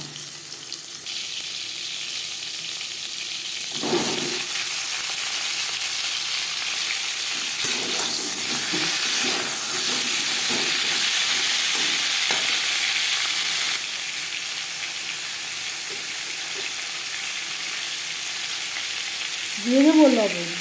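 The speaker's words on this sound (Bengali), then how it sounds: "আলু ভেজে নেওয়া কড়াইতে আবারও তেল দিয়েছি, এবার দিয়ে দেবো পটল" Peeled, halved pointed gourd frying in oil in a kadai, a continuous loud sizzling hiss with a few soft scrapes and clatters of stirring partway through.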